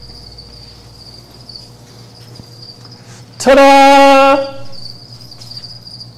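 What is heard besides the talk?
crickets chirping, kept as a zoo food item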